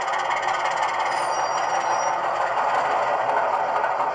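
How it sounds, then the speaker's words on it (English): Bowser HO-scale DS 4-4-1000 model diesel locomotive with an ESU LokSound decoder running, giving a steady rumbling engine drone with light rattling and clatter, continuous and fairly close, with no talking. "It's really a nice sounding locomotive, great operating locomotive."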